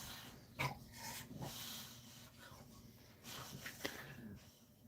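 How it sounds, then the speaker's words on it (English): A dog lying upside down while playing with a bone makes odd grunting, whimpering noises, faint and scattered under steady background sound. "my dog is making strange noises because he's upside down playing with his bone now."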